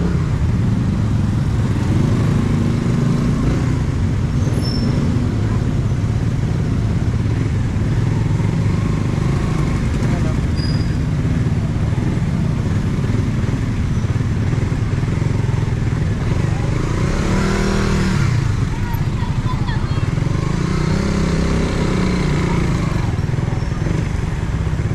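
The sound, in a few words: many motorcycles passing by on a roadside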